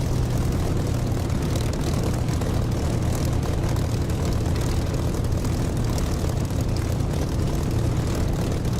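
Aircraft engine throttled up in the DCS flight simulator game, a loud, steady propeller drone with a dense low rumble that holds constant throughout, no talk.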